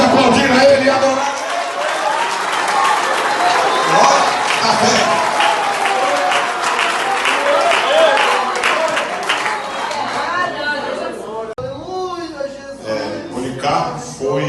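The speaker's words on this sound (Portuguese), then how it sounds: "Você pode aplaudir a ele e adorar." Applause from a church congregation at a worship service fills the space continuously, broad and crowd-wide, while a preacher's voice carries over it and a short spoken phrase cuts in near the end.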